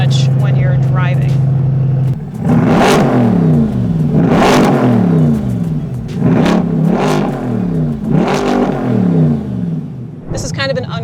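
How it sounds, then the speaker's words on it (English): Chevrolet Corvette C8 exhaust revving hard while accelerating, a loud engine note rising repeatedly through several surging pulls, each climbing in pitch before dropping back, with a few brief gaps between them. "Great exhaust."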